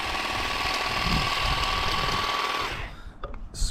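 An Ingco cordless garden shear trimming a hedge, a steady buzzing motor hum with rattling blade chatter for several seconds, then stopping into a few faint clicks and rustles.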